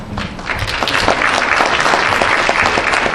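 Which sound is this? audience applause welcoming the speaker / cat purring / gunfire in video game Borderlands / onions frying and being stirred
audience applause welcoming the speaker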